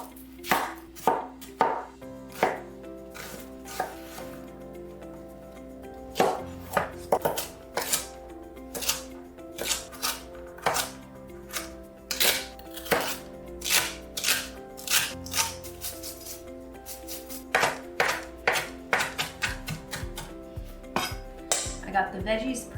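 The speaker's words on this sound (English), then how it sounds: "I'm just gonna roughly chop everything into a size that I would like to eat in a soup" Vegetables and parsley being roughly chopped for soup, with a knife striking a cutting board in quick close bursts of sharp taps, broken by short pauses and some scraping and clinking.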